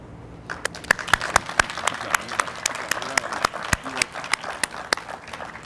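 An audience at a police and fire awards ceremony gives a round of applause to the standing committee, sparse, uneven claps ringing out in a hall, some sharp and loud, with a voice heard among them.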